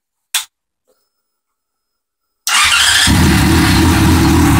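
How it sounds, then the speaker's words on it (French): A Yamaha FZ6 motorcycle, warm from earlier running, cranks and catches, then settles into a loud, steady idle close by after a sharp click and a moment of near silence. "Donc, la moto, elle est tiède. On va la démarrer."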